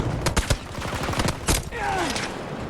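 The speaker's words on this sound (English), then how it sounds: "Hearing unlimited fucking shots right now." Rapid, chaotic gunfire in the video game Battlefield 2042: dense bursts of automatic fire and sharp single shots crackle loudly over a constant battlefield rumble, with a faint whine trailing off near the end.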